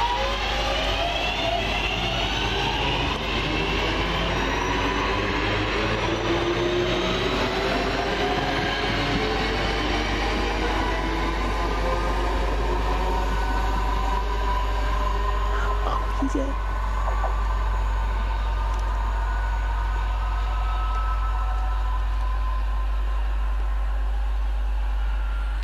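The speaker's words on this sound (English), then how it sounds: "Now departing the 1744 London Midland local service from Birmingham New Street to Birmingham International." A London Midland class 323 local electric train pulls away from a station, its motors winding up in rising tones and wheels rumbling loudly nearby, then receding under steady low hum; a voice briefly speaks.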